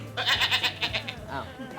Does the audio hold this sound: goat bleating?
yes